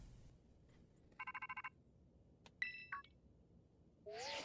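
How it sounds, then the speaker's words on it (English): A phone call alert in the video game Pokémon Scarlet: a short burst of rapid electronic ringing pulses, then a couple of brighter chiming tones, over faint background quiet. "Phone call."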